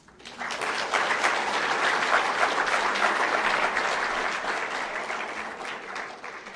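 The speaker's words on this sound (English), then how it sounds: "Could we give a round of applause to all of the caregivers in our lives?" Sustained applause from an audience honoring caregivers, a dense steady wash of many hands clapping that swells quickly, holds loud for several seconds, then eases slightly toward the end.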